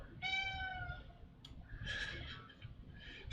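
A chatty house cat meows close by, one clear drawn-out meow followed by a couple of shorter chirpy meows, faint and indoors with quiet background noise.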